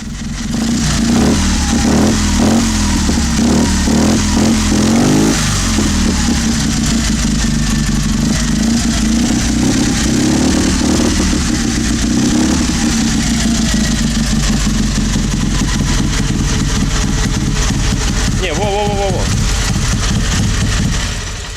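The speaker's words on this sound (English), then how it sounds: "Andrei, give it some gas." An old barn-find car engine with damaged wiring idles roughly and revs up loudly in bursts, the rumble rising and falling throughout, with voices talking over it.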